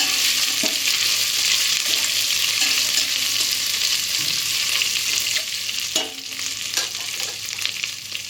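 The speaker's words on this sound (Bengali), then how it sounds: "এখন এটাকে ব্রাউন কালার করে ভেজে নেব" Spices fry in hot oil until browning for mung dal ghee khichuri, a loud continuous sizzle with frequent spatula scrapes and stirring clatters close by, and no voices.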